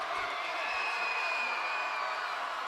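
Football crowd at a high school playoff game, Fitchburg against Leominster: a steady, distant wash of cheering and murmuring voices throughout, fairly faint, with no single shout standing out.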